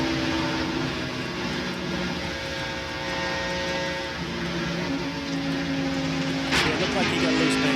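A NASCAR stock car running without brakes at the 2000 Cracker Barrel Old Country Store 500 roars into a corner, its engine drone shifting in pitch under continuous commentator talk.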